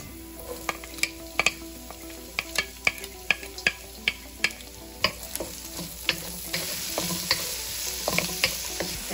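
Garlic and onions fry in hot oil with a steady sizzle, broken by a run of sharp, regular clinks and scrapes from a spoon stirring against the pan, close and fairly loud, with no talking.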